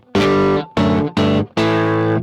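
An electric guitar runs through a modified boost driver pedal for extra saturation. Four loud, gritty strummed chords are each cut off sharply, the last ringing longest.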